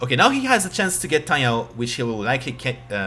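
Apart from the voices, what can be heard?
No everyday noise stands out behind the speech.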